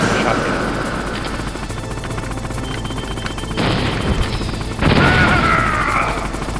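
Helicopter rotor chopping in the Metal Gear Solid video game, a steady loud broadband drone with gunfire bursts and explosions layered on top, under a voice talking.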